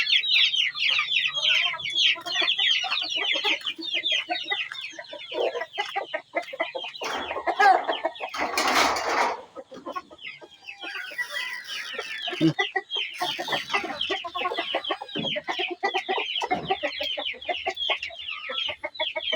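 Native chickens, two roosters and a hen, cluck and chatter continuously close by, with a rustling burst in the middle and rapid repeated clucks throughout.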